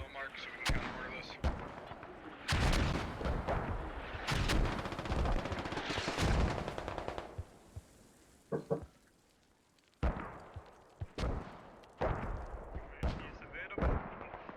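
Mortar impacts and gunfire in the video game Squad, loud repeated bursts and booming blasts in irregular volleys, with players talking over the fighting.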